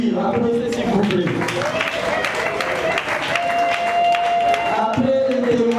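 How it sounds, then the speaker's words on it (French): An audience at a memorial tribute applauds, with dense, sustained clapping heard under a voice speaking over a microphone. "je vous demanderai encore une fois d'applaudir. Applaudissez s'il vous plaît."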